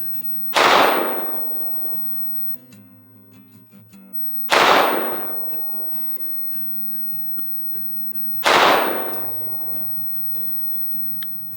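Three loud, close 9mm pistol shots from a SAR USA CM9 Gen 2, evenly spaced about four seconds apart, each a sharp crack with a ringing decay outdoors.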